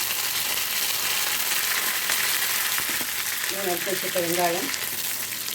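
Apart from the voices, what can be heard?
vadagam frying in oil for fish curry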